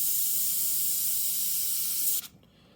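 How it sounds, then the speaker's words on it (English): Steady airbrush or spray-can hiss onto a clayboard painting of a male cardinal's wing, continuous and close for about two seconds before cutting off abruptly into quiet room tone. "just spraying mostly on the shield"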